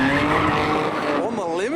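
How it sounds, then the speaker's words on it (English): Car doing donuts in a Mercedes, tires sliding and squealing loudly with a wavering, continuous screech over engine noise. "It's just back into donuts now."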